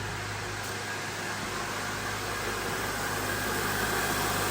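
A 2004 Honda Element engine running steadily just after a starter replacement: an even, continuous idle hum with a faint electrical whine, unbroken and moderately loud throughout, with no voices.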